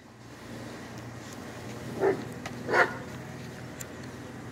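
Two dog barks, one after the other, over a steady low background hum.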